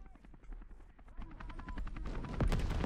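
An Mi-24 helicopter in the Call to Arms tank battle game whirs with a rising rotor throb amid bursts of gunfire and distant explosions, growing louder toward the end, with faint voices underneath.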